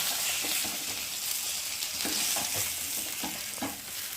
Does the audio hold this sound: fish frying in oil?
yes